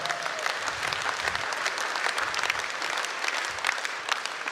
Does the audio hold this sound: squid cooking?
no